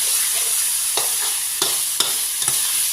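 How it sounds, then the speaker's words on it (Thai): Shallots and garlic stir-frying in hot oil for a Thai pork chili paste, a steady loud sizzle with four or five distinct scrapes of a utensil against the pan. "นำหอมกระเทียมลงมาเจียว แล้วก็ผัดได้เลยไม่ต้องตำนะคะ"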